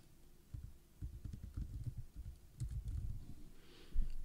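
Keys tapped in short irregular bursts as a password is entered on a computer keyboard while setting up domain email forwarding to Gmail, close and fairly quiet with brief pauses between clusters, no voice.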